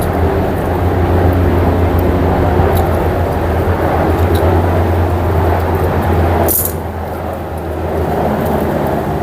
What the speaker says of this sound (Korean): 비행기가 지나가네요.